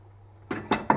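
A frying pan is handled in a home kitchen: three quick metallic clanks in close succession, near and distinct, following a quiet pause.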